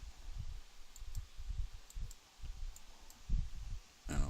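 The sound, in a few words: computer mouse clicks while editing an image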